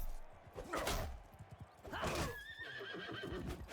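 A horse in the video game Mount & Blade II: Bannerlord neighs loudly in a long whinny, with hoof clip-clops and battle noise around it, then a second fainter whinny.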